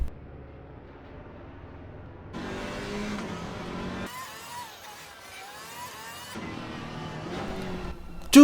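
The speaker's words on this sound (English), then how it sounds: "my car started sliding because I pressed the throttle too quickly" Car engine in a racing video game revving in rising and falling sweeps, loud and near, with pitch climbing and dropping through gear changes, a brief quieter stretch, then a sharp burst at the end.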